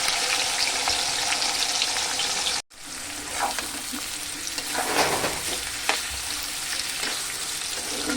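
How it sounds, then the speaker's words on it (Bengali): Onions frying in oil in a wok, with a steady hiss and sizzle, broken by a brief cut near the start, then stirring scrapes and bubbling as the frying continues. "নাড়িয়ে চাড়িয়ে ভেজে নেব ভালো করে পেঁয়াজগুলো"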